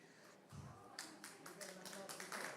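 Scattered hand claps build into steady applause from an audience at a COP28 sustainable finance partnership signing ceremony, with voices carrying underneath.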